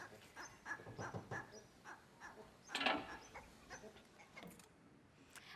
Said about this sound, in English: This is the sound of a catfish in the Brisbane River in Australia.